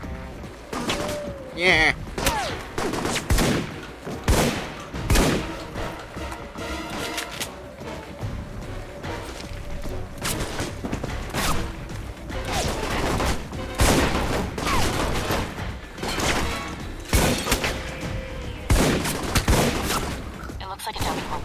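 Gunfire in the video game Alpha Protocol: repeated loud bursts of shots and fusillades across the whole stretch, with game music and a short spoken word mixed in.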